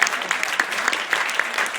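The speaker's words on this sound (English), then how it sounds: "So give yourselves a round of applause if you're from that" Crowd at an outdoor climate rally clapping, a brisk dense patter of many hands with a few sharper individual claps standing out.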